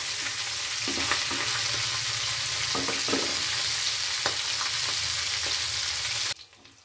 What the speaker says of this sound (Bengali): মাছের মাথাগুলো ভালোভাবে ভাজা হয়ে গেছে, এবার আমি তুলে নিচ্ছি